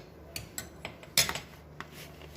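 A metal spoon clinks lightly against a dish several times while seasoning potatoes with black pepper and salt, giving a quick series of close, thin taps with one sharper clatter in the middle.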